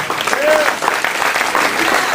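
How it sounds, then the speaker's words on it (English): A wrestling convention crowd claps steadily at the 2006 AWA Convention Showcase, the dense applause filling the room while a voice talks over it. "He deserves your applause."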